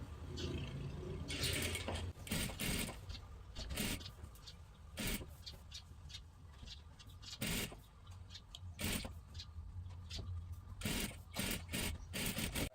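A sewing machine stitches along the edge of a size 40 kurti's neckline, a low, close mechanical whir broken by repeated clicks and scrapes of handling as the fabric is turned.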